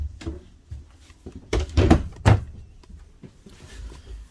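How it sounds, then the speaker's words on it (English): A full-extension pull-out drawer in the closet of a 2023 Forest River R-Pod 190 camper slides and thumps through several quick open-and-close strokes, with bumps and clunks close by and no talk. "you also have some full extending pull-out drawer guides"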